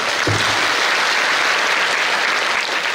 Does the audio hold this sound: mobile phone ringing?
no